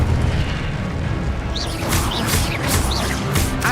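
Incendio fire spell blasts in the Hogwarts Legacy video game on PC, a dense roaring rumble with repeated whooshing bursts in the second half, loud and continuous with no talk.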